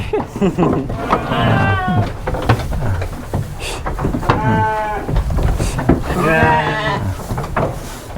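Garut sheep bleat loudly and repeatedly in a crowded pen, several wavering calls from nearby animals overlapping with rustling and background chatter.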